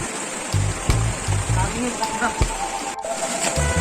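Rushing water from a small waterfall pours steadily, a constant loud wash of noise with a few thumps and voices talking over it.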